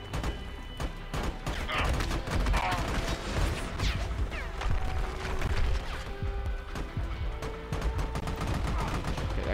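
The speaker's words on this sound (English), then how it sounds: "Who the fuck is shooting us?" Dense, continuous gunfire in the co-op shooter game Army of Two: rapid automatic bursts and mechanical clatter crowd together at a loud, steady level, with players' voices occasionally heard underneath.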